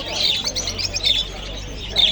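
Caged birds chirp at a bird bazaar in Andijan, with quick high tweets repeating over a low background hum.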